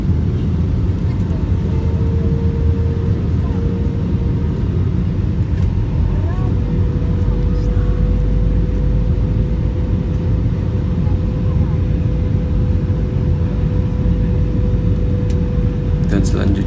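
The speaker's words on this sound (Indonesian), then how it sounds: "ini dia pesawat sedang approach landing" A new Batik Air airliner cabin on approach for landing fills with a loud, steady engine and airflow roar, a thin constant tone running through it and faint voices underneath.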